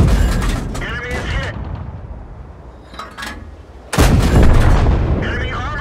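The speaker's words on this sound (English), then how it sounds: "Aim at an enemy vehicle and fire." Tank cannon shots in the World of Tanks boot camp tutorial: a few loud, booming gunfire blasts with sharp onsets and echoing decay, the last and heaviest near the end, interspersed with a synthetic game voice announcing hits.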